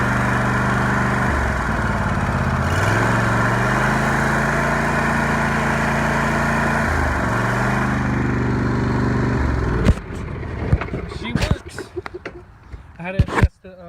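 A John Deere Z335E riding mower engine runs steadily after a throttle cable replacement, its low drone shifting pitch a few times before it cuts to quieter rattles and knocks near the end.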